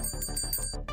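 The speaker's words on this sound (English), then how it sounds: "I'll give you the bell." A single bright bell rings during a live stream, a sustained metallic tone with rapid repeated strikes over about a second, clear and close with no talking.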